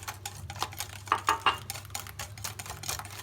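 Cake batter being stirred with vegetable oil just poured in, a spoon or whisk tapping and scraping against a bowl in light, irregular clinks, close by with no talk.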